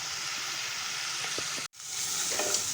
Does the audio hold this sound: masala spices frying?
yes